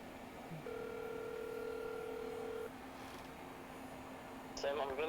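A phone call rings out with a steady electronic ringback tone for about two seconds, then goes quiet before a brief beep, faint under room hum.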